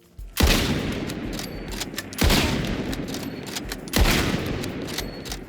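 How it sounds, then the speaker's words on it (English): Three loud video game rifle shots, a full-power cartridge from a short barrel, ring out evenly spaced about two seconds apart, each followed by a long rumbling, echoing tail. "Good meaty sound effect for what is a full power cartridge out of a short barrel"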